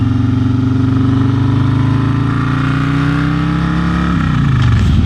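A motorcycle engine drones steadily at close range, holding a low rumbling pitch before shifting down as the ride changes speed.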